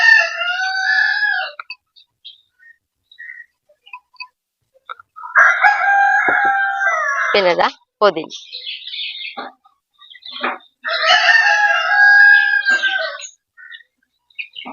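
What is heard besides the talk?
roosters crowing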